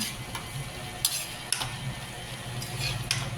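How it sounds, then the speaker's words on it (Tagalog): Ground pork and vegetables stirred in a pan, with soft, faint scraping and a light sizzle that runs steadily for a few seconds, broken by a couple of brief utensil clinks. "Halu-haluin na naman natin."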